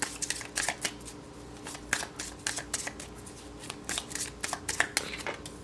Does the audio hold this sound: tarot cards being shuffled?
yes